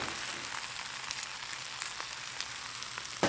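Spinach wilting in a hot pan over high heat gives a steady, bright sizzle with faint crackles throughout and a sharper pop near the end, heard alone without talk.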